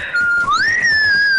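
Loud human whistling during a German game stream, one sustained high note that slides upward and holds, piercing and close to the microphone.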